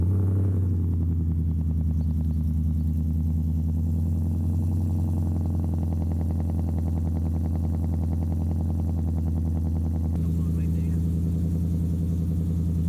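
A truck engine fitted with a new aftermarket exhaust and X pipe runs at a deep, rumbling idle after a warm startup, with a steady throaty burble and a slight shift in tone toward the end.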